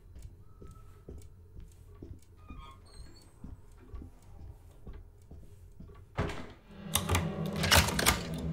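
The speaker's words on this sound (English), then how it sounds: "Uh-oh, Cassandra! I'm touching your typewriter!" Typewriter in the Alone in the Dark video game, giving a run of irregular light ticking key clacks that later give way to a louder burst of clattering noise.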